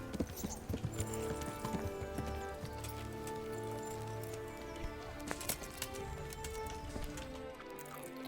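Steady clip-clop of horse hooves trotting in a fast rhythm in the video game Kingdom Come: Deliverance, with a busy background of ambient tones and occasional sharp clicks.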